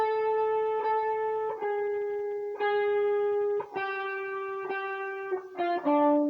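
A sustained distorted electric guitar note bent up and released, with pitch steps and slides between sustained tones, played alone with a few fast picked notes near the end.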